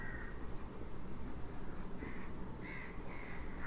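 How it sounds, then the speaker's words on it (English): A marker writes the word sulfur on a board in short squeaky strokes with brief pauses between them, set against a constant background hum. "Now I will write sulfur."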